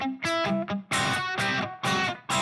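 Electric guitar at full volume through heavy overdrive distortion, a series of loud, thick, harmonically rich chords and notes played in short bursts with brief gaps, close and alone.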